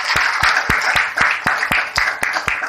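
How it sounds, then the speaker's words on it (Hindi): An audience clapping in rhythm at a speech event in Khutaunauna, Bihar, India, loud and close, about ten sharp even claps keeping a steady beat. "एक बार जोरदार तालियां बजाइए बहुत।"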